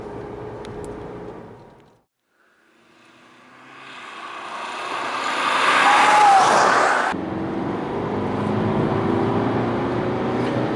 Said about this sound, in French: Le moteur marche très bien, le 2 litres de 184 chevaux, c'est vraiment une merveille.